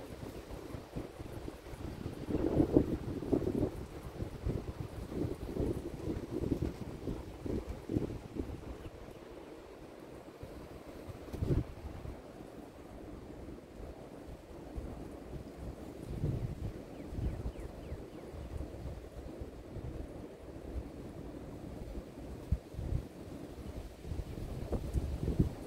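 Strong wind buffeting a microphone outdoors as snow melts, a low, gusting roar rising and falling throughout, fairly faint overall.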